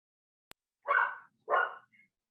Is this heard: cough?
no